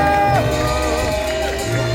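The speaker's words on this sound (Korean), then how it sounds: "큰 박수" A rally crowd gathered to demand an election-fraud investigation applauds and cheers loudly and continuously as a speaker is called to the stage, with dense clapping and voices filling the space.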